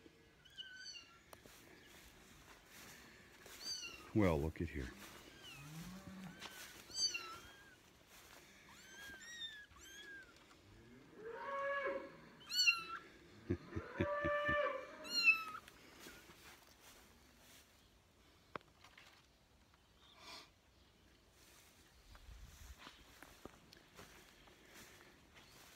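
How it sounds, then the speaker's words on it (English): A little kitten mews faintly in high, repeated short cries on a farm, with scattered footsteps and rustling and a brief spoken remark. "I just heard a little kitten."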